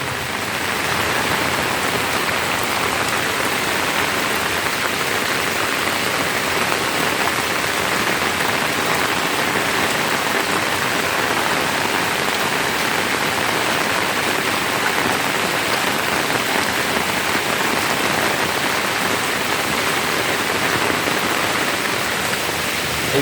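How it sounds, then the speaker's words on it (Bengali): Steady, even rain pours down without a break, a dense hiss of drops hitting surfaces, with no voices. "অনেকে বলে রহমতের বৃষ্টি নামছে আসলে এটা সত্যিকারের রহমতের বৃষ্টি"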